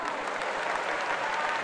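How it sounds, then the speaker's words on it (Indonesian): Audience applause for a volunteer stepping forward at a public discussion event, steady dense clapping from a crowd, sustained and even throughout the brief stretch. "Kita kasih tepuk tangan dong, kita kasih tepuk tangan"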